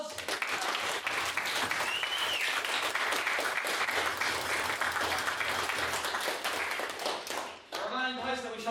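A big round of applause fills a debating society chamber, steady and dense for most of the stretch before fading, then a voice speaks over the tail.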